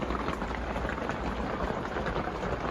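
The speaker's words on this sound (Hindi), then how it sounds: "यहाँ पे देख सकते हो कितनी बारिश हो रही है, सुबह से बारिश हो रही है। देखो बर्फ के ओले पड़ रहे हैं।" Heavy rain pours in a dense, steady hiss, close and continuous, with hailstones falling through it, though the pellets do not stand out separately; no voices.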